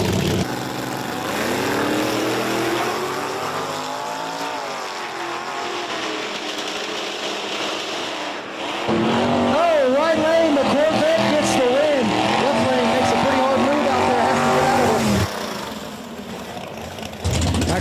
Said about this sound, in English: coming up next, got the Stingray Corvette here in the right lane